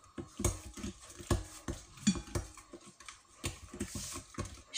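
A teaspoon clinks and scrapes against a bowl at a quick, uneven pace while twenty-five grams of crumbled fresh yeast is stirred with a teaspoon of sugar, close up and fairly soft, with no voices.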